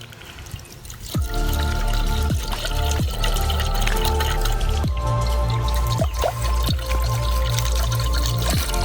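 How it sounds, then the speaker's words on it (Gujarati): Water poured into a pot for cooking Maggi noodles, a steady close pour with repeated dripping, splashing strikes over a continuous liquid wash, no talking. "હવે આપણે નાખી દઈએ પાણી।"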